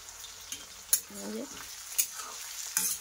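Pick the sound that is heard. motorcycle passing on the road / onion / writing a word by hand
onion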